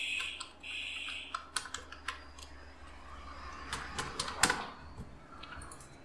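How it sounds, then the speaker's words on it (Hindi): Someone types a password on a computer keyboard, a run of crisp, irregular key clicks close by, with a few sharper taps mixed in over a faint steady background hum. "जैसे ही मैं अपना पासवर्ड डाल लेता हूँ,"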